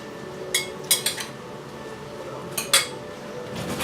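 A quinoa salad with lime being mixed in a dish, a few separate close clinks and taps of a utensil against the bowl over a quiet room background, no talk.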